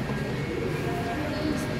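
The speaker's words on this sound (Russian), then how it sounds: "Железная по железной дороге составы едут." A small model train rumbles steadily along its track on a large miniature layout in Saint Petersburg, a continuous mechanical whir with a faint background hum.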